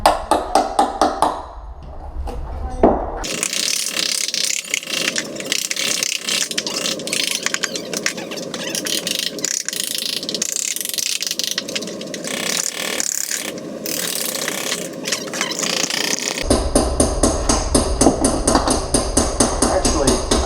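A wonder bar pries up carpet tack strip from a floor during a luxury vinyl remodel, giving repeated sharp metallic knocks, scrapes and clattering crunches close by.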